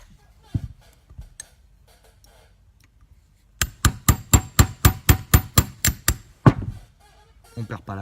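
Two hammers being removed from a break-action shotgun, a close rapid series of about a dozen sharp metallic taps in a regular rhythm, preceded by a few isolated knocks and handling clicks.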